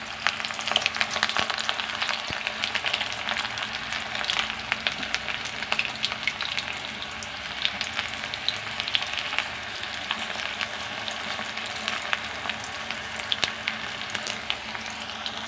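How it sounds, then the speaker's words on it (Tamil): Banana flower pakoda bubbles in hot oil, deep-frying with an even, crackling sizzle peppered with tiny pops throughout, close and unbroken, with no talk. "அடுத்து வாழைப்பூ வச்சு பக்கோடா போட போகிறோம்."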